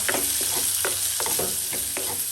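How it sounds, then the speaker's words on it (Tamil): Onions and garlic sautéing in a pan alongside potatoes, a loud continuous sizzle close up with rhythmic scraping stirs about every half second throughout. "மெல்லிசா வாட்டி போட்டு வதக்கி போட்டு"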